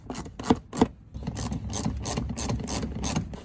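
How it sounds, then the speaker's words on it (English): Cutting stitches on Corvette fog light trim, two sharp snips followed by a run of rhythmic rasping, clicking cuts, close and distinct with no talking. "I need to cut the stitches on this side because it won't fit"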